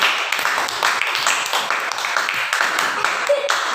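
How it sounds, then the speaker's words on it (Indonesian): A class applauds together, steady and fairly loud, the claps blending into a continuous patter for several seconds. "Tepuk tangan untuk kelompok 3 yang akan presentasi hasilnya."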